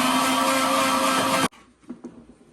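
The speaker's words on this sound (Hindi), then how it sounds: "अब इसको ब्लेंड कर देते हैं।" A blender mixing a protein shake with water roars loudly and steadily for about a second and a half, then cuts off abruptly, leaving faint clinks and quiet room noise.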